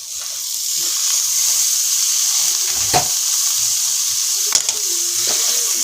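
Tomatoes fry in a pan for a prawn roast, a steady close hiss of sizzling oil with a few stirring clatters and spoon taps, no voices.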